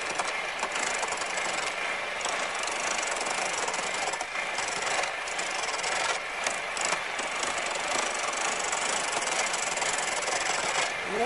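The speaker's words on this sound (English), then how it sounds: "I'll start with a gouge and treadle this in the treadle lathe and turn it down with the gouge" Wood turned on a foot-powered treadle lathe with a gouge while roughing in a Shaker rocker frame part: a steady, dense rasping scrape that runs continuously with slight rhythmic surges, fairly close and alone.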